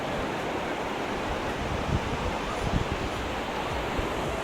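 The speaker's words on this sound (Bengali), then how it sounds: "এই হচ্ছে তাহলে গোল্ডেন সি বিচ।" Ocean waves at Golden Sea Beach in Puri roll in as a broad, constant roar of surf with wind noise, a few soft thuds of breaking water rising briefly through the steady wash.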